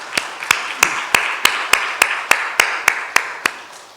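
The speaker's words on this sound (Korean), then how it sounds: "이들을 위해서 한번 감사의 박수를 한번 하겠습니다" Congregation at a Sunday church service clapping in thanks, a steady, even rhythm of about a dozen sharp claps in unison, fairly close and loud in a reverberant room, gradually fading at the end.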